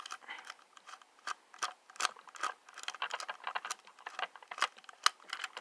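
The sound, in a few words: unscrewing battery compartment of Hasbro Yo-kai Watch toy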